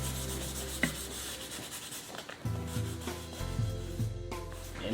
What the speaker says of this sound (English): this area is dry, and I'm going to sand it